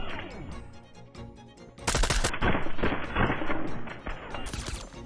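A scoped burst SMG fires in Fortnite, with quieter shots at first followed by loud, rapid bursts of close gunfire that continue in quick succession.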